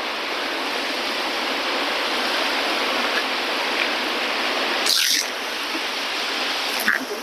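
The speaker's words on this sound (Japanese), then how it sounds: "ここは例の滝です" A steady roar of falling water, broad and constant like a nearby waterfall in Fukui Prefecture, Japan, with a couple of brief rustling bumps.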